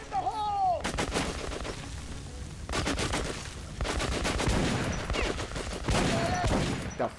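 Shotgun blasts in Metro Last Light, a string of loud, sharp shots mixed with other gunfire and chaotic combat noise, with burning Molotov flames nearby.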